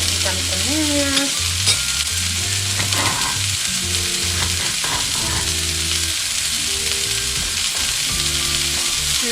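Broccoli and onions sizzle steadily in a hot frying pan while a utensil scrapes and stirs through them in repeated strokes, the crackle loud and close throughout.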